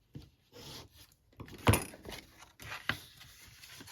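Folded paper edges of a chocolate treat package burnished with a tool, producing short dry rubbing and scraping strokes with a couple of sharper scrapes, close and quiet.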